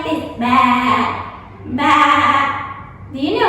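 A teacher's voice imitates a sheep bleating, two drawn-out nasal "baa" calls with wavering pitch, close and clear, followed by the start of a third.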